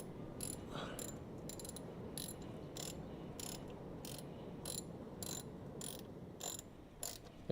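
A ratchet snugs down bolts in quick, evenly spaced bursts of clicking, close and crisp against a low background hum, with no talking.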